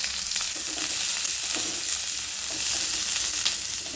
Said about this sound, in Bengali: এবার মশলাগুলো ভেজে নেব।